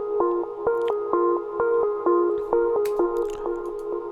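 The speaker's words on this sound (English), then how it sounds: "And then there's the main synth 2, which is I think only in the breakdown." Main synth from a techno track, made with the Diva plugin: a steady, bouncy pulse of bright plucked tones repeating rhythmically about twice per second, alone with no voices.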